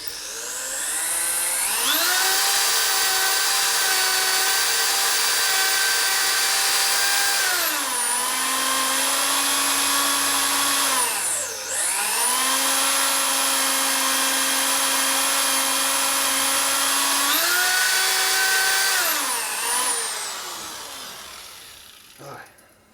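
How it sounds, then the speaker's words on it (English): High-speed drill whining as it burns through a broken sprocket pulley bolt on a Harley Twin Cam rear wheel, a loud, close, sustained scream that dips in pitch under load twice before spinning back up, then winds down. "let's go ahead and do a high speed drill"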